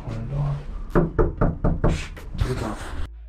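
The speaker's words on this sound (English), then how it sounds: "Knock on the door." Knuckles rap on a door in a quick series of about six sharp, close knocks.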